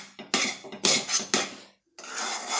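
A spoon scrapes and stirs a sweet mixture in a thick kadhai, giving several rough, rasping strokes in quick succession, a brief pause, then another steady scrape, close and fairly loud with no talk.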